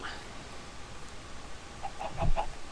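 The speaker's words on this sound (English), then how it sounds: "Oh, there's a gold chicken." Chicken clucking in Minecraft, a few short clucks close together near the end over faint background ambience, no voices.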